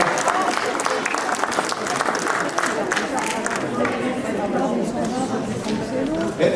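At a cat show in Gien, an audience claps for a cat being presented, a moderate spread of applause mixed with crowd chatter and nearby voices.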